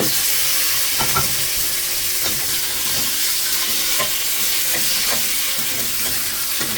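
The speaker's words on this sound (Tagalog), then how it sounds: "So igisa lang natin sa konting mantika." Pork sizzles in a little oil in a pan alongside garlic, a steady bright frying hiss with scattered crackles and occasional stirring scrapes, close and continuous.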